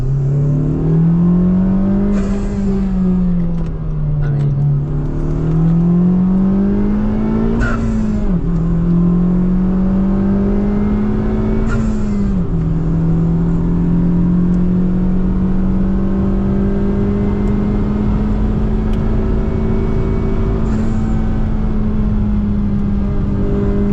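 A 400 HP Honda Civic Type R on the Nürburgring, heard from inside, drones loud and close as the engine rises and falls through gear changes, settling into a sustained high-rev howl with wind and road roar.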